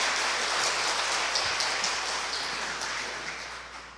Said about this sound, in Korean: 모두 박수로 맞이해 주십시오